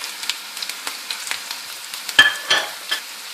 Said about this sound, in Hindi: अब मैं इसमें ये सब खुश्क मसाला डाल देती हूँ